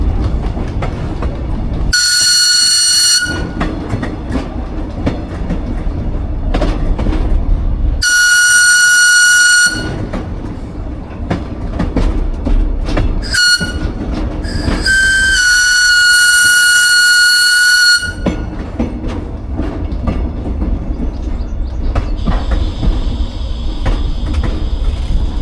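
N&W 620, a steam locomotive, shoves a train north at a transportation museum, with loud close rumble and clanking of rail cars, broken by several long, piercing whistle blasts.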